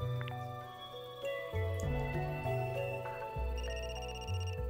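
A phone rings in the video game Another Code: Recollection, a melodic electronic ringtone of stepped tones repeating over a few seconds, clear and moderately quiet with no talking.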